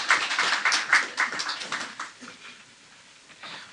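Applause from an award-ceremony audience at an economic gala honouring digital economy prize winners, a dense patter of many hands that starts strong and gradually thins and fades over a few seconds.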